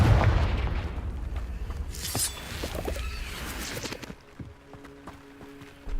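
A Confringo fire spell in the Hogwarts Legacy video game bursts with a deep boom and a bright crackling blast, then fades into quieter game ambience with scattered small impacts.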